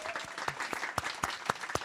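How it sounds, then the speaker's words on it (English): Conference audience applause in a room, fairly faint and brief, with a few distinct claps standing out in a loose rhythm. "there is one person in the room who can receive your applause"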